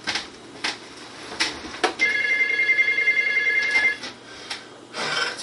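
A telephone bell rings in a steady trill for about two seconds, loud and close, between short bursts of other noise before and after.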